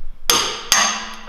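Two sharp, ringing metallic hammer blows strike a car's control arm during removal in a workshop, the second following about half a second after the first, each fading in a short resonant tail.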